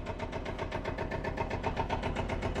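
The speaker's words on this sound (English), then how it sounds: "Getting the McCormick-Deering going now." A McCormick-Deering tractor with International's own 152 cubic inch engine runs with a steady, even rhythmic chugging, close and fairly loud, with no voices over it.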